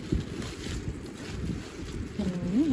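Strong wind gusts while sea vegetables are gathered by the shore, a low, uneven rumble buffeting the microphone that rises toward the end, with no clear speech.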